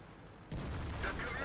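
A shell striking a tank in World of Tanks, with a sudden loud boom about halfway in, a second blast soon after, and rumbling noise lingering to the end.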